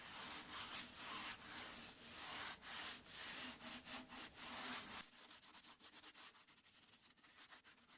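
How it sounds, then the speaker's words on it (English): Rhythmic rubbing and scratchy friction of sanding paste on a spinning knotty pine bowl finished with shellac, repeating back-and-forth strokes, close and fairly quiet, turning softer and more broken near the end. "The grit in the sanding paste should shine up the shellac"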